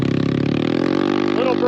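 A Honda Navi fitted with a Yoshimura exhaust accelerates briefly and close by, its small engine giving a steady, pulsing burble that climbs slightly in pitch.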